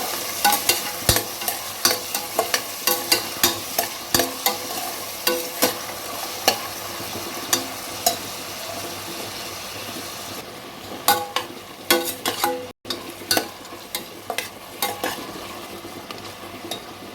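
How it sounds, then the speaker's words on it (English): Onions for a veg biryani sizzle steadily in hot oil in a pressure cooker while a spoon stirs and scrapes the pan in repeated knocks, close and clear, with no talking. "Saute the onions till tender and transparent"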